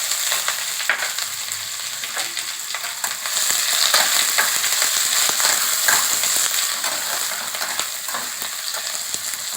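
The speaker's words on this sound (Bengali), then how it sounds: "এবার ওর মধ্যে আমি পেঁয়াজগুলো দিয়ে দিলাম এই যে পেঁয়াজগুলো কেটে রেখেছিলাম এগুলো দিয়ে দিলাম" Chopped onions drop into hot oil already seasoned with dried red chilli, frying in a loud, continuous sizzle with intermittent stirring scrapes, recorded up close with no talking.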